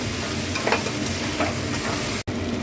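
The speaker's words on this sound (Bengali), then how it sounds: "এবার আমি দেবো এতে ফুলকপি ভাজাটা দিয়ে দিলাম, দিয়ে একটু নেড়ে জল দিয়ে ঢাকা দিয়ে রাখা" Fried cauliflower pieces being stirred into a spice masala in hot oil, with a steady broadband sizzle and a few soft stirring scrapes, loud and close, without talk.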